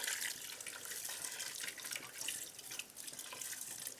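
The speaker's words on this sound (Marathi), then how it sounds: "पाणी घालूया." Water is poured into a thick masala mixture, a soft running splash and trickle heard alone at low volume for a few seconds.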